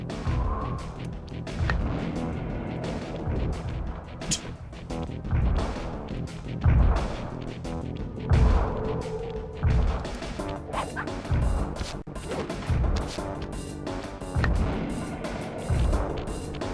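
An explosion in the video game Sly Cooper that sounds like a fart, heard as a string of loud, blunt bursts and crashes repeating over a dense layer of game sound effects.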